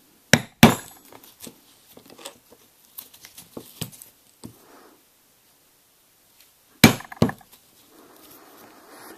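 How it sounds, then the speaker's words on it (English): Hole punch struck through a Christmas dog collar, sharp loud smacks in pairs near the start and again later, with small tapping and shuffling between them and no talk. "go ahead and punch our holes out"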